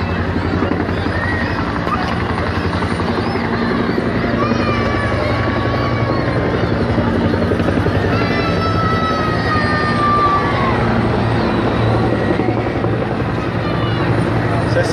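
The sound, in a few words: helicopters flying over a parade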